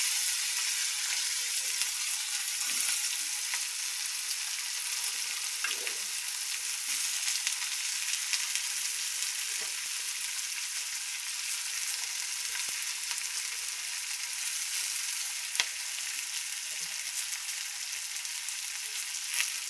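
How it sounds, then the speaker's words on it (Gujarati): Chopped ivy gourd (tindora) fries in a pan for a garlic tindora dish, making a steady, even hiss of sizzling oil with occasional faint pops and taps, with no voices throughout. "હવે એની અંદર નાખી દઈશું સમારેલા ટીંડોળા"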